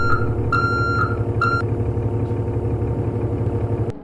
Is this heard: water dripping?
no